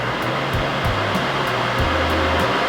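An inline duct fan runs at full power, giving a steady loud rushing whoosh with a low hum that shifts pitch in slow pulses.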